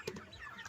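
Broiler chickens on a small home farm give a few soft, brief clucks, faint and somewhat distant amid low background noise.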